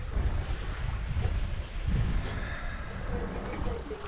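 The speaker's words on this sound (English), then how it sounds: "The sound of sailing. No engines. Sails are up." Wind and water rush past a yacht sailing under sail with no engine running, a steady broadband roar of wind and waves close by, with a faint voice briefly under it.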